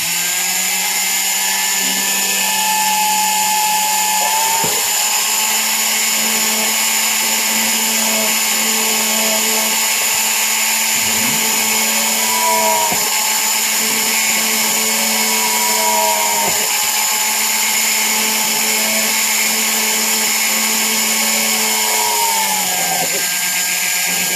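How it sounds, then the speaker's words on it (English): A power drill whines loudly and steadily, its pitch dipping briefly several times as it bites into material while drilling holes for handmade nameplate charms, running almost nonstop throughout. "I'm drill some holes in here."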